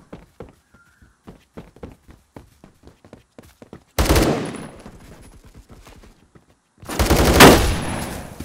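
Gunfire in the video game Phantom Forces from an instant-kill weapon: a run of rapid, evenly spaced shots at moderate level, then two loud, dense bursts of heavy fire with a brief gap between them.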